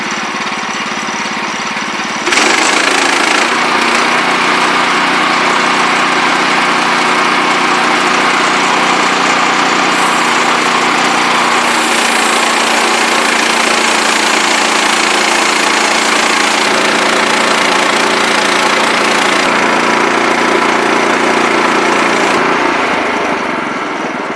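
The petrol engine of a low-cost portable sawmill, whose cutting head runs on wheeled tracks, drones steadily and loudly at close range after starting up abruptly, holding an even, rough idle with slight shifts in pitch and no talk.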